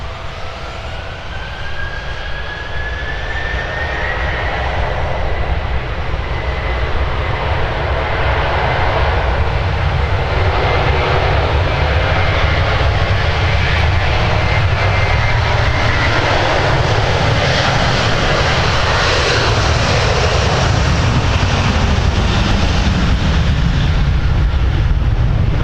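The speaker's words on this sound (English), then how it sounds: "Delta 258 now throttling up for Dublin" A Delta jet airliner spools up its engines for takeoff at Minneapolis–Saint Paul bound for Dublin, a roar that swells from a rising whine into a loud, sustained thunder lasting nearly half a minute.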